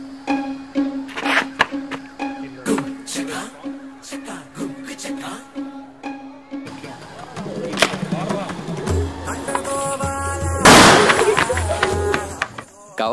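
Diwali firecrackers going off outdoors: a string of sharp, irregular cracks and pops over steady background noise, growing denser and louder toward the end with one big burst near the close, while people talk nearby.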